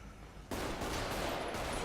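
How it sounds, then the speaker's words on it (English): A sudden burst of rapid gunfire from a shooting range in GTA V starts and keeps going as a dense, continuous fusillade, loud and close. "you can still hear the gunshots coming from ammunition"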